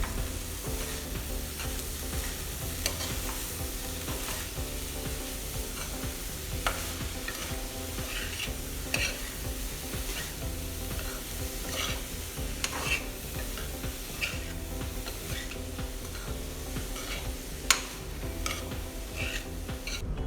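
Chopped onion and vegetables with soy sauce stirred in a frying pan, a soft continuous sizzle under intermittent light scrapes and clinks of the utensil, faint and close.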